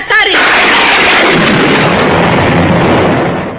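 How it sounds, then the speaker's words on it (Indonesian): A loud thunderclap breaks suddenly and rolls into a broad, rumbling roar that slowly fades over several seconds. "Petir yang menjawab suaramu, Uma Durga."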